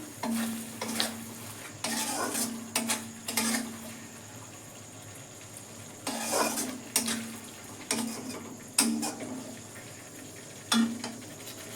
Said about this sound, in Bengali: দইটা দিয়ে দিলাম গ্যাসটা পুরো লোয়েতেই রেখেছি দই থেকে তেল বেরিয়ে আসছে দেখুন